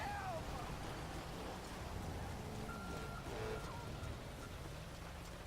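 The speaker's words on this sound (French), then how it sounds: "Allez, les amis, on rentre, là, il pleut." Steady rainfall in the police-patrol game GTA V with the LSPDFR mod, a constant wash of hiss from start to finish, with faint tonal game sounds and possible quiet speech underneath.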